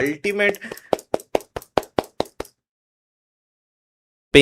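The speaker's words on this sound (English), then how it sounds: "let me clap for Saurav" Close, sharp hand claps ring out about ten times in a quick, even rhythm right after brief talk, then stop into silence.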